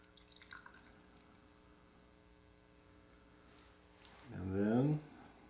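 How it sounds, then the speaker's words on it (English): Whisky glugs out of a small 50 ml sample bottle, a Glenglassaugh Sauternes-finish single malt, in one short gurgling pour near the end, loud and close over a faint background hum. "I'm going to pour only 25 milliliters out of the 50 that are in here."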